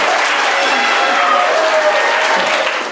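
A live main-stage audience breaks into loud, sustained applause, a dense wash of clapping and crowd noise that holds steady throughout.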